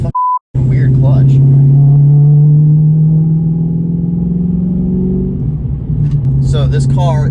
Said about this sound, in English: So this car is freaking loud, like really loud.